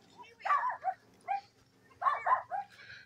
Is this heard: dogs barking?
yes